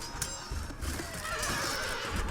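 Horses neigh in the Shogun Total War battle game as a cavalry mass clashes on the flank, a loud whinny rising over a steady din of hoofbeats and battle noise, with no talk.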